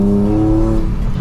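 A Nissan 350Z engine pulls hard in second gear up a freeway on-ramp, a loud, steady, close-up drone with a rising tone and no talk over it.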